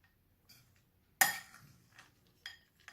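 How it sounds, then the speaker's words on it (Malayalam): Peanut salad with chopped tomato and coriander stirred in a bowl: one sharp metallic clink of spoon against the dish, followed by a few faint scrapes and a lighter tap, close and otherwise quiet. "ഇതൊന്ന് നമുക്കൊന്ന് ശരിക്കും ഒന്ന് മിക്സ് ചെയ്ത് വിടാം"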